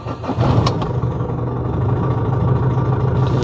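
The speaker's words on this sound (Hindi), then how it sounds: "तो अब मैं गाड़ी चालू करने जा रहा हूँ और अभी न्यूट्रल पर है" A Mahindra Scorpio SUV engine idling loudly in neutral nearby, with a continuous rumbling drone and slight vibration, no talking.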